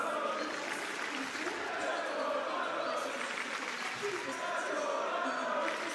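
An esports arena crowd cheers and applauds in a steady, dense roar that lasts throughout, with a commentator's voice faintly woven into the noise.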